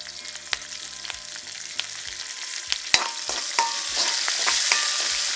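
Chillies and curry leaves frying in hot oil in a pan, a bright crackling sizzle that swells as the leaves go in, punctuated by sharp clicks and taps of a spoon against the pan, close and loud.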